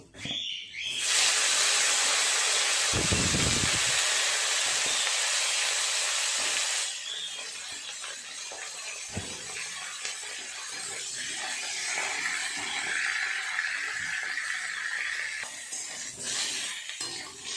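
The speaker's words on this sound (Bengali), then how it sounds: "ফুলকপিগুলো আগে খুব ভালো করে ভেজে নেব।" Cauliflower pieces fry in hot oil for a fish curry, starting with a loud, steady sizzling hiss for several seconds that then drops to a quieter crackle with a few clatters.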